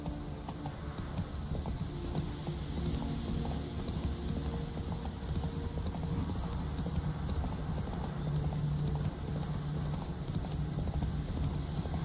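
A horse galloping in The Witcher 3 video game, rapid rhythmic clip-clop hoofbeats running continuously and fairly close, with game ambience underneath.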